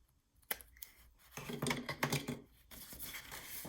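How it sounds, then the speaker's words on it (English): Scissors snip and slice through paper in a few quick cuts, close by, with light rustling between strokes. "Trim this off because my scissors just aren't cutting it for me today."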